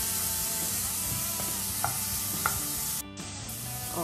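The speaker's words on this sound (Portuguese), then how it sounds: "Aí eu vou dando uma fritada aqui nessa cebola," Onion and garlic frying in a pan, a steady close sizzle with a few light scrapes of stirring, continuous throughout and quieter in the last second.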